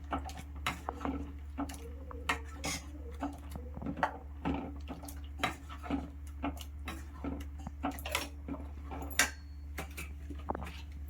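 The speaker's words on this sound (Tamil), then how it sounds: "இது நல்லா கிண்டிக்கணும்." A spoon scrapes and knocks against a pot while potato sambar is stirred, a string of irregular close clinks and taps over a low steady hum, with no one talking.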